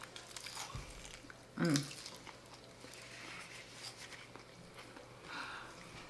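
A single close, crisp crunch as someone bites into an air-fried tortilla topped with black beans and onion, set against a quiet room with faint chewing afterward.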